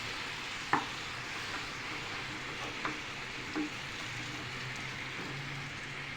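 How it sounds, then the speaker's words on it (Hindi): Cream and sugar cooking down in a pan for custard seviyan, a steady soft sizzle and bubbling with a few brief clinks of a utensil against the pan. "अब हम क्रीम को जो है चीनी के साथ पकाएंगे"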